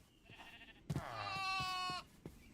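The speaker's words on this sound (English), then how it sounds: "that's a sheep, don't worry about it." A sheep bleats once in a long, wavering cry within the Minecraft RLCraft modpack, preceded by a fainter bleat and soft game ambience, heard clearly with no talking.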